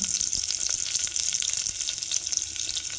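Curry leaves hit hot oil in a tempering with urad dal and cumin for a cucumber and dry fish curry, giving a loud, steady, close sizzling hiss dotted with small crackles and pops throughout, with no talking.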